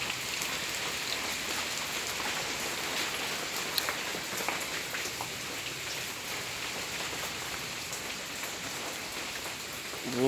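Heavy morning rain pours down in a steady, even hiss of drops on surfaces, continuous and moderately quiet throughout with no voices.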